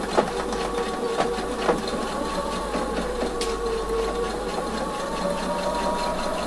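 A sewing machine runs steadily while stitching a 1 cm back seam on fabric for a folded slit, giving a continuous mechanical hum with faint rhythmic clicks and a few small knocks. No one speaks.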